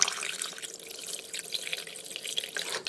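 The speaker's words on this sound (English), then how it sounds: "I'm gonna actually add in some water." Water is poured into a blender for a green mango smoothie, giving a close, soft, continuous splashing trickle that lasts throughout.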